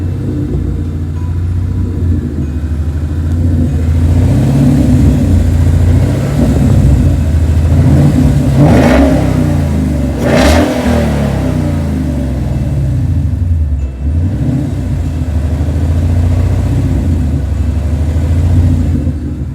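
A Ford Mustang engine revs close by with a steady low rumble and two sharp rising revs near the middle, a small repeating tick audible under the idle throughout.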